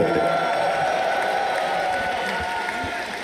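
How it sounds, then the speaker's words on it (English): An arena crowd at The International Dota 2 esports finals cheers and murmurs in a broad, sustained wash of noise, loud at first and fading slightly, with a voice talking over it. "now you guys are cheering because I tell you to"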